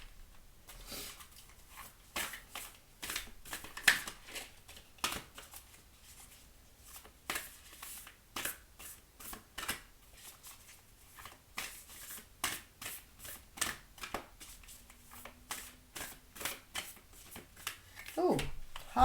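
Oracle cards being shuffled by hand in a steady run of quick, crisp riffling flicks that carry on for nearly twenty seconds, close and fairly quiet, with no talking.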